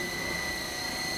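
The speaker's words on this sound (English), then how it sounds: "as much as this helicopter is fun to fly, I can't wait to move to a 6-channel" An E-Sky Lama V4 counter-rotating coaxial RC helicopter flying outdoors gives a steady, even rotor whir with a high whine, constant in level and unbroken for the whole short moment.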